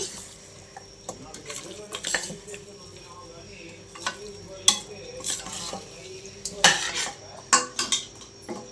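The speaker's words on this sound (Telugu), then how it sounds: "కారం ఉప్పు ధనియాల పొడి పసుపు వేసుకొని ఒకసారి అయితే కలుపుతున్నారు" A spoon scrapes and clinks against a metal pot as spices are stirred into mutton paya, giving repeated sharp metallic knocks and scraping with a faint sizzle underneath, close and moderately quiet, with no talking.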